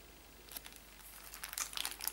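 Plastic packaging on a Japanese single album crinkles and crumples as it is opened, a close, soft, irregular rustle that grows busier toward the end.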